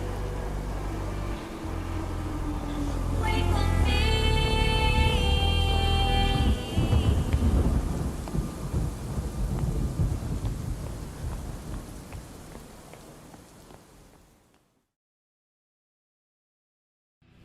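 Steady rain pours down with a low rumble of thunder underneath, swelling and then fading away to silence.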